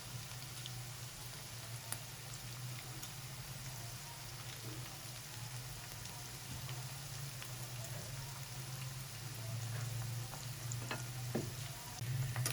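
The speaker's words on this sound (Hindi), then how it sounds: "हमारी भिंडी फ्राई होने वाली है। लाइट गोल्डन कलर आ चुका है।" Okra (bhindi) pakoras deep frying in hot oil until light golden, a continuous dense bubbling sizzle that stays even and close with scattered crackles and grows slightly louder toward the end.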